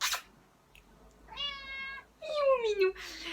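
A cat meows twice up close, a rising-falling call followed by a longer, louder one, with brief rustling before and after and no other voices.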